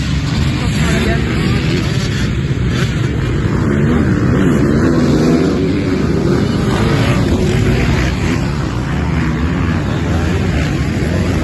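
A Peugeot rally car at a Wallonia championship round in Vitrival roars continuously through its race start, loud and close with wind buffeting, while a commentator talks over it.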